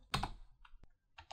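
Keystrokes on a computer keyboard while writing a Python script in Vim on Linux: a few quick, close clicks clustered at the start, then scattered single taps with short pauses between.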